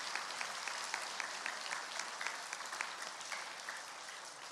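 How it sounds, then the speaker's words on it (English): Faint, distant applause from an audience at an elementary school awards ceremony, steady crowd clapping with individual claps standing out, no talk over it. "I think they deserve another round of applause."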